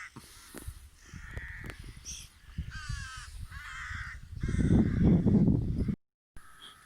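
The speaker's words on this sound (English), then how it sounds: "Surrounded by crows now," Several crows caw repeatedly outdoors on a morning, with harsh, overlapping calls at close to middle distance, joined by fluttering and rustling that swells before a brief gap of silence.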